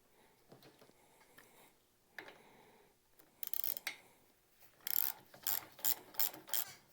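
A ratcheting die from a metric tap and die set works a smushed bolt, with faint clicks at first, then louder bursts of quick ratchet clicks in short strokes, close up.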